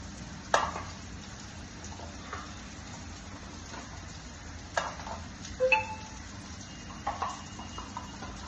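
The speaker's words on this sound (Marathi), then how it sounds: "मसाला चांगला भाजून घेऊया" Spice masala roasting in a pan for misal pav, with soft sizzling under scattered scrapes and clinks of a spoon stirring, quiet and close.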